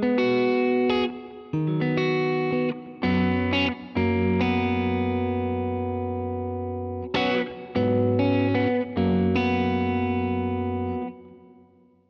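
Electric guitar run through a Zoom G6 multi-effects pedal on a hall reverb setting: loud chords with repeated strums and long ringing sustain, played alone.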